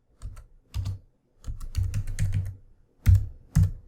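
Computer keyboard typing while writing WordPress theme code, crisp key clicks in short clustered bursts separated by pauses, close and clear with no talk.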